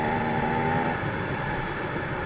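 An off-road vehicle engine drones steadily under load in fourth gear on an OHV trail, with a rumbling, rattling tone and no voices.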